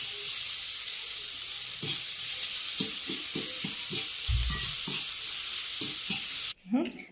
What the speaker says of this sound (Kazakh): Міне үстіне пиязымызды қуырып салдық.